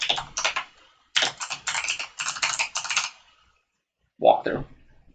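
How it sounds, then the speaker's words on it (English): Quick, steady clicking of keys on a computer keyboard comes in two close, crisp bursts separated by a brief pause, followed by a short spoken remark. "type it in"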